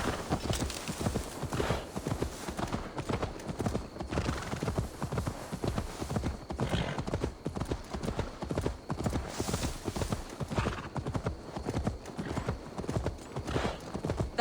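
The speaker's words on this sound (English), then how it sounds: "to deliver Magni his horse" Horse hooves clip-clop in a steady, continuous rhythm, close and moderately loud, with faint ambient noise and an occasional whinny, in the video game Assassin's Creed Valhalla.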